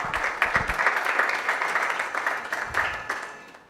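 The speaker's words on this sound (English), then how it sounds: "Please, a big round of applause for Mr." Audience applause for panelist Mr. Pianim at an IMANI Ghana panel discussion, a steady crowd clapping that holds for several seconds and then begins to thin out.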